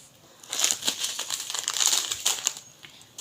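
A packet of garam masala being handled, its plastic crinkling in bursts of close, bright rustling that come and go over about three seconds.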